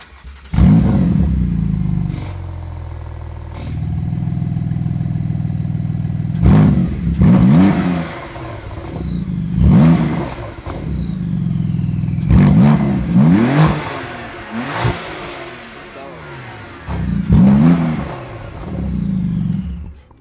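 A Porsche 911 GT2 RS engine revs repeatedly. Several sharp, loud throttle blips rise and fall, separated by a rumbling idle and heard up close.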